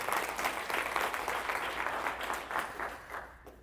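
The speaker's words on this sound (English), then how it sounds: "Hey, big round of applause for Dave" Audience gives a round of applause after a presentation segment, sustained dense clapping that slowly tapers toward the end.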